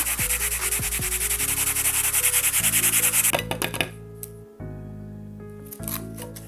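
Burnt toast being scraped to strip the charred layer, quick rhythmic rasping strokes close to the microphone, then slower separate scrapes with short pauses; no talking.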